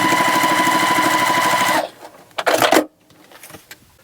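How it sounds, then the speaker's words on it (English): A sewing machine stitches quilt fabric pieces in a steady, fast mechanical whir for about two seconds, then stops, followed by brief rustling and handling of the fabric. "sew along that edge and just stop sewing where this piece of fabric ends"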